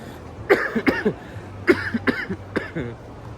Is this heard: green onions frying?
no